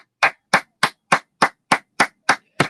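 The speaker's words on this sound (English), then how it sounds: "Multiply this applause because you deserve it" Nine sharp, evenly spaced claps ring out in a steady rhythm, loud and close with silence between each, an applause salute for a carpenter.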